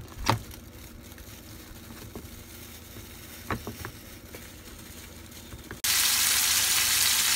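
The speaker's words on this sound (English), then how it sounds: "So I put a frying pan with a little bit of oil, and we're going to start frying our tomato, onion, and our garlic" Tomato, onion and garlic frying in a little oil in a frying pan, with a steady crackling sizzle, a few clinks and stirring knocks, then a sudden loud surge of hiss near the end.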